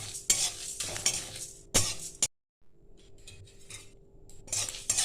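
Mango pickle ingredients fry in a pan under repeated scraping and stirring strokes from a utensil, with faint sizzling between them and a brief silent gap, close up and without voices.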